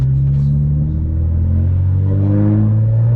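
A single-turbo BMW 335is engine pulls hard under acceleration in manual mode, a loud, steady low drone with strong engine harmonics that rise slightly in pitch over a few seconds, heard close from inside the car.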